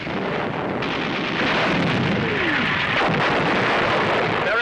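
Shell fire striking an 88 mm gun position on a WWII North African front, a sustained loud, rumbling blast roar with debris noise and no speech.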